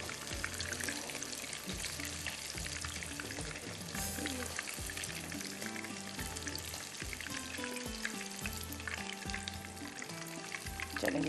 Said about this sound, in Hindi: ये हल्के से देखिए फ्राई हो गए इस तरह से।